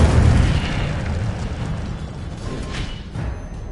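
An Incendio fire spell cast in Hogwarts Legacy on PS5 erupts in a loud fiery burst, strongest at the onset and then fading into a rumbling, crackling roar with a couple of brief snaps.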